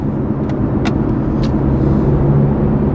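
BMW G30 530i with a valved sport exhaust, valves closed, giving a steady, muted engine drone with a low hum throughout and a few faint higher ticks, no voices.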